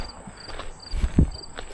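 Faint, intermittent high insect chirping, like crickets or grasshoppers, drifts from the trees along the Montour Trail in late summer, with a couple of soft footstep thuds up close.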